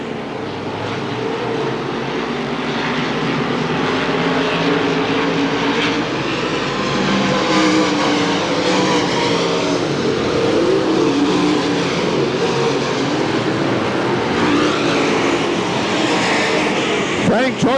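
Stock cars racing at Hamilton County Speedway in the 1993 Winston 50, a loud continuous roar of several engines with rising and falling pitch as cars pass, under a race announcer's commentary.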